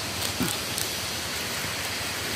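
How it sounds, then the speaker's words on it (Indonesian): Steady rain falls outdoors in a forest area, a continuous even hiss of drops on the surroundings with no voices, moderately loud and unbroken throughout. "kita cuacanya hujan lagi nih, guys. Tuh, guys, hujan lagi."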